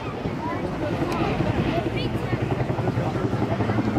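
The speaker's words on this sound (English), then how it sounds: "They call it the Griffin. And this exceptional helicopter remains in limited production" Griffin helicopter flying at the Blackpool airshow, a steady loud rotor and engine drone with wind buffeting the microphone, while a commentator talks over it throughout.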